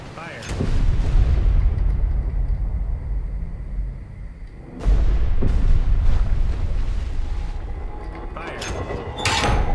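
Naval guns fire in the WWII destroyer game Destroyer The U-Boat Hunter, with heavy booming blasts near 0.5 and 4.8 seconds and another late, each followed by loud rumbling low-end decay that fills the clip.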